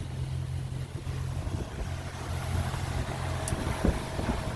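Steady engine drone of a Mainship 400 motor boat cruising on open water, a continuous low rumble with wind and water hiss, no talk.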